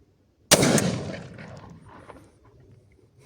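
A Benelli 828U over-under shotgun fires a single shot from the top barrel with a full choke. The blast is sudden, sharp and loud, then fades in a long, decaying echo with no talking.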